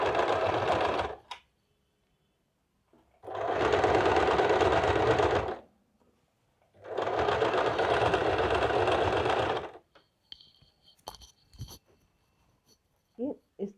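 A sewing machine stitches a princess-cut blouse in three loud, steady runs of about two and a half seconds each, separated by pauses, followed by faint handling clicks and rustles.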